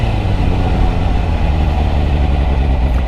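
A Suzuki GSX-R750 motorcycle engine runs with a loud, steady low rumble close by, holding an even, slightly throbbing note with no clear rise in revs and no voices.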